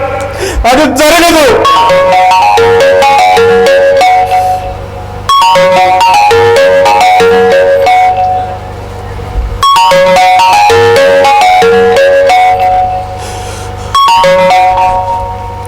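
A phone ringtone plays loudly in three repeating melodic bursts of bright, chiming tones, with short gaps between them.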